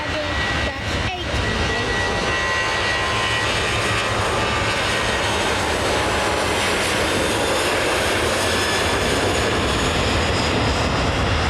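Boeing 737-800 jet engines at Manchester Airport roar steadily and loudly throughout, a broad continuous rumble and hiss of an airliner preparing to depart, with no pause.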